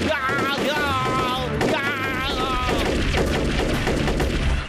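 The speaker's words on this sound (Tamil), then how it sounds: "ஏய் டபுள், ஃபயர் பட்டன் அமுக்குடா, சீக்கிரமாடா." Cartoon gunfire from a pressed fire button crackles in a rapid burst of shots, following excited animated voices, loud and busy.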